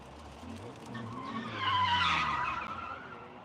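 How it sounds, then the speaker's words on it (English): A car drifts on a dry skid pad, its engine droning while the tires break into a rising, wailing squeal that peaks midway and then fades, close and loud. "It's easier to drift the 350"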